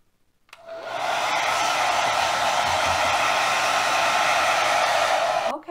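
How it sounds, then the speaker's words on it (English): A hair dryer switches on and blows with a steady, loud whooshing roar for several seconds before clicking off. "you can take a hairdryer and put it on your coldest setting and air dry it that way"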